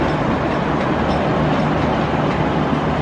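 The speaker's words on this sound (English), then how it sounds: "Another velocity train," A VLocity diesel train runs past on a regional Victorian line between Melbourne and Wangaratta, giving a steady, loud roar of engine and rolling wheels that holds for the whole stretch with no talk over it.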